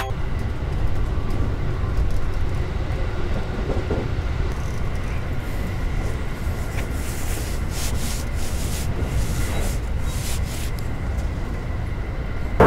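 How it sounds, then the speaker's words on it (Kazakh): Inside a moving Tokyo train carriage, a steady low rumble and rolling hum fills the space, with faint rattles and brief higher scrapes from the wheels and car body and no talking. "Пойыз вагондары ішіндегі тыныштықты бағалап жіберіңіздер."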